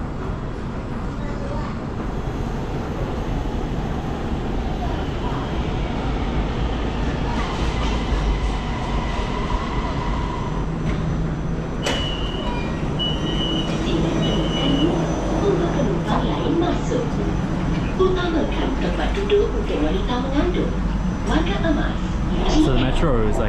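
Steady rumble and rolling clatter of an air-conditioned metro train in Malaysia, heard from inside the carriage with faint squeals and beeps over a continuous low drone, and people talking in the background.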